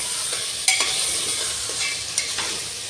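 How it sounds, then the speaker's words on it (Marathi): Peanuts and a little moong dal being stirred and sautéed in a pan, a steady frying sizzle with scattered clinks and scrapes of the spoon, close and unaccompanied. "शेंगदाणे आणि थोडीशी मूग डाळ, हे सुद्धा थोडंसं परतून घ्यायचं."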